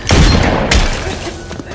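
Shotgun blasts in a horror film set in a haunted house attraction, two loud booming bursts close together with a heavy rumbling tail and no talk.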